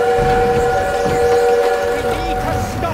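A train in the Call of Duty WWII video game rumbles steadily close by, with sustained whistle-like tones droning over the rolling noise for a few seconds.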